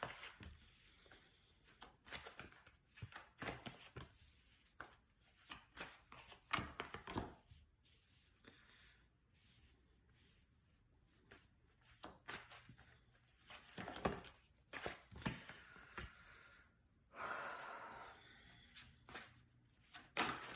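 Psychic Tarot cards are shuffled by hand in a series of soft, irregular riffling and slapping bursts with short pauses between them, quiet and close, with no talking.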